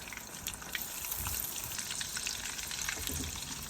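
A ribeye steak sizzles in a pan with garlic, avocado oil and butter, a constant crackling fry with small popping bursts, close and fairly quiet, with no voices.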